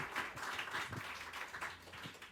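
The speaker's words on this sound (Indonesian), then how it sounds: "Tepuk tangan semuanya dong." A group of people clapping at a premarital guidance session run by the Kebayoran Baru religious affairs office, a steady spread of applause over about two seconds without speech.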